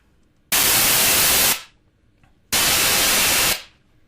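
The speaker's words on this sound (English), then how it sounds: "First, our pure white noise." Two one-second bursts of pure white noise, flat full-band hiss, from a digital-to-analog converter after a simple two-point moving average filter built in ChucK, starting and stopping abruptly with a short silence between them.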